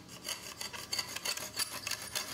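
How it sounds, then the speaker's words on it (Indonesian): A hand saw cuts into a piece of kayu majot wood from Kalimantan, producing quick, evenly spaced rasping strokes at close range with no talking. "Setelah itu bagian bawahnya saya gergaji lagi."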